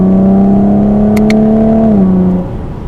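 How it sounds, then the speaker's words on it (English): A 2019 Chevrolet Camaro 1LT RS accelerates in third gear in comfort mode, its engine note a steady, loud drone that climbs and then drops at an upshift, with two brief clicks midway. "3rd gear, we'll do a small acceleration in the comfort mode still."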